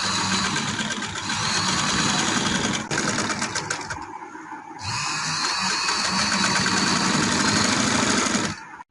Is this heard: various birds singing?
no